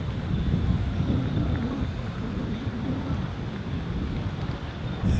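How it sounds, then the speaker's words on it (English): Strong cold wind buffets the microphone outdoors with a steady low roar and rumble, loud and continuous throughout with no talk. "you don't know how cold and windy it is here"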